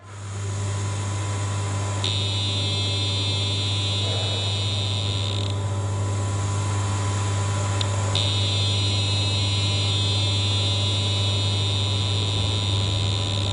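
An EMF detector set on a stairwell in Karosta Prison sounding off with a high electronic whine that starts and stops in several bursts over a constant low electrical hum.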